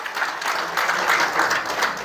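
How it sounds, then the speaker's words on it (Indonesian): A church congregation at a Good Friday service applauds in praise, a short, dense burst of many hands clapping together for about two seconds. "Tepuk tangan bagi Yesus."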